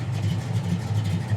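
A 1957 Chevy with a 4-speed manual idles steadily nearby, a low, even rumble with no revving.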